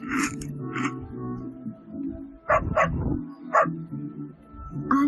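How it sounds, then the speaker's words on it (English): Dog barking in short bursts, a few sharp barks spaced out over low tonal background music, fairly close and clear. "A dog."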